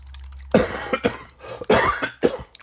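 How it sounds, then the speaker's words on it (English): Four sharp coughs in close succession, loud and near, with short pauses between them and no talking. "Yeah, I've still got a cough"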